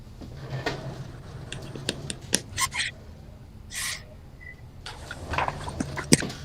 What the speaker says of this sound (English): I can hear buttons clicking.